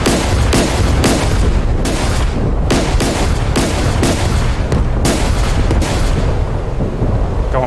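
Naval guns of a Grisha V corvette firing in the DCS World game, a dense barrage of loud booming shots rolling over each other in quick succession, a good couple of miles away.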